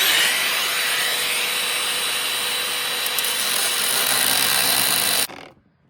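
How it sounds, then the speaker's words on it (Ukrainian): A Makita power tool cuts into the casing of a faulty Porsche Taycan charger, a loud, steady grinding whine that runs continuously for about five seconds before stopping abruptly. "Ну що, будемо різати, є така макіта в мене."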